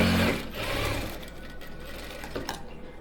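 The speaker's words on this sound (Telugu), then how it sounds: "దాని తర్వాత దీన్ని ఇట్లాగా టైట్ ఫోల్డ్ చేసి లోపల వైపుకి ఒక స్టిచ్ వేసుకోవాలి ఇట్లాగే." A sewing machine runs in a fast, close whirring burst as it stitches a folded blouse hem, then slows to a softer, uneven mechanical hum.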